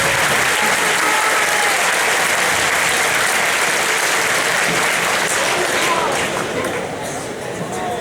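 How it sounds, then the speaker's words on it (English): A presentation audience gives a sustained round of applause, dense clapping from many hands that holds steady and thins slightly toward the end. "Give a round of applause for that."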